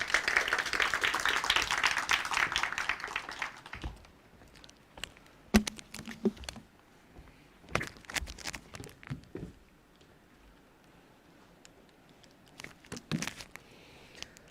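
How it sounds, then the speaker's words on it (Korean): At an AI developer course project presentation event, an audience gives a burst of applause for a presenter. The clapping lasts about four seconds and then gives way to scattered taps and small noises in a quiet room. "그래서 큰 박수로 맞이하겠습니다"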